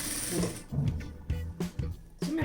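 A sewing machine stitching falls onto a saree runs in short, uneven bursts of mechanical whirring and clatter, close by, with brief pauses between runs.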